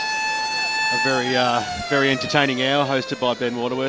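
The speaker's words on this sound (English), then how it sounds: "That's the siren just to really get the game started." A football ground siren sounds at the start of an East Ringwood versus Vermont match as a steady, sustained tone for about a second, then a commentator talks over it.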